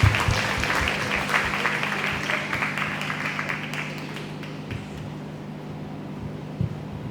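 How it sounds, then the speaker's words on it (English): Audience applause for contestants at the 2023 Fayette County Free Fair Queen Pageant, a dense patter of many hands that is loudest at the start, fades gradually over a steady low hum, and is dotted with a few thumps. "Give them a warm round of applause as we come back in."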